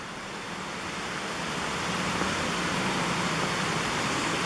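Water from a washed-out mill race pours down toward the river, a dense, steady rushing roar that grows slightly louder and holds constant throughout, with no voices.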